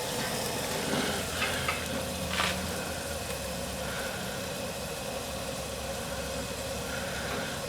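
Shrimp and lobster tail sizzle on an RV Works Cajun Bayou Broiler, a steady close hiss of frying with a low burner hum underneath and no talk.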